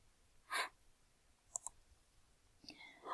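Computer mouse clicks, two quick close taps in a quiet room, surrounded by soft breaths and faint rustling.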